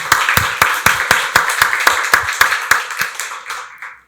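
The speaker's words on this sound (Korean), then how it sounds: "박수로 하나님께 영광 돌리겠습니다" A church congregation claps together at a Sunday worship service, a run of about fifteen evenly spaced, loud claps that fade out near the end.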